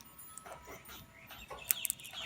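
Molting pet bird giving soft clucking and chirping calls, a few quiet scattered notes with a couple of sharper high chirps near the end, close by and fairly faint.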